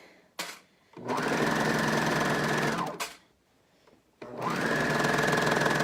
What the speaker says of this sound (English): So I am still going to sew on the inside circle because that's the correct way to do it